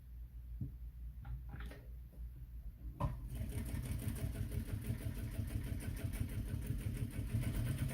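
A sewing machine stitches a seam on a crossbody bag, starting after a few faint clicks and then running as a steady, close mechanical whir to the end.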